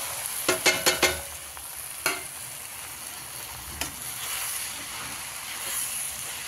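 Crushed leftover chapati stirred in a hot pan, a cluster of quick metallic spoon scrapes and taps up front, then a lone knock or two over a soft, steady sizzle.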